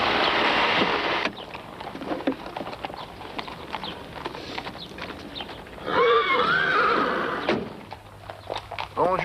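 A horse at a stable whinnies once, a high wavering call standing out over a steady hiss of outdoor ambience and faint hoof-like knocks.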